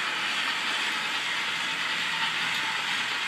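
A kiddie train arcade ride in motion gives off a steady, loud mechanical rumble and hiss with no break in the sound.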